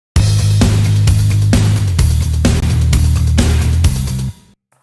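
Bass and drums from a mix of a pop-punk song, with a steady driving beat and a tight, full low end, loud and continuous before stopping abruptly.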